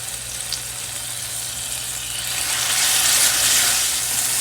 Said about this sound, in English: So we're going to allow our Epis to fry